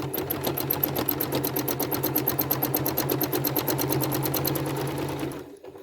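A sewing machine quilting looping patterns chatters in a fast, even run of needle strokes for several seconds, loud and close, then stops abruptly, with no talking.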